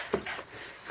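A small puppy gives a brief, high whimpering yelp, soft and close, followed by faint low noise.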